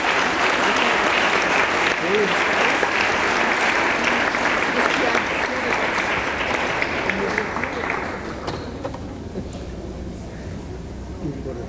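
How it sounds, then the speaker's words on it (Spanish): An audience at an award ceremony applauds a prize recipient, a dense, steady wash of many hands clapping for several seconds that thins and fades toward the end. "Nuevamente le solicito un aplauso para la doctora Belinda Arteaga"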